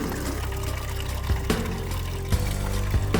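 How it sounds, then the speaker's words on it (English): Coolant pours out of the disconnected lower radiator hose of a Ford Fiesta ST Mk6, a continuous close splashing stream broken by a few sharp knocks and clunks. "And now popping off the lower rad hose and escaping the coolant."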